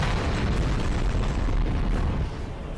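Bombs going off in a Skibidi Toilet animation give a continuous, heavy low rumble of explosions, loud and sustained throughout without any break.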